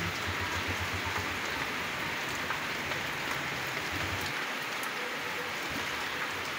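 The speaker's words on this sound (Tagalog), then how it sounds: "At biglang bumuhos ang malakas na ulan" Steady heavy rain pours down, a dense, constant hiss of drops drumming on surfaces with no voices.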